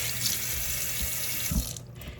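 A faucet runs steadily into a sink while something is rinsed, with a continuous close hiss of flowing water and a few soft splashes before the flow tapers near the end.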